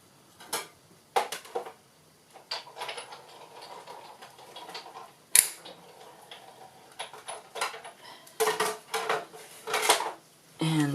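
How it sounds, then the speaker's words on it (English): A die-cutting machine rolling a metal die through cardstock, heard close with uneven clicks, mechanical rattles and a sharp clack partway through, ending in a denser burst of grinding and handling, and no talking. "I'm very quickly just going to run that through my die cutter."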